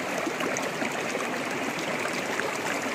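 Steady rushing of water flowing down from a distance at a hill resort in Kurseong, a continuous even stream sound with no talk.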